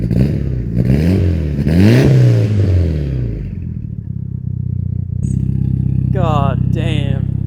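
A Mitsubishi Lancer Evolution VI engine revs hard several times, each rev rising and falling in pitch, then settles into a rumbling idle before a final quick rev.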